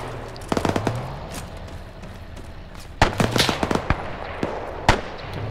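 Rapid bursts of gunfire and heavy booming blasts, including mortar explosions, crackle loudly and near in the ArmA 3 video game's WWII battle, clustered in dense volleys.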